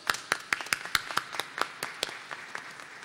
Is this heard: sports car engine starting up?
no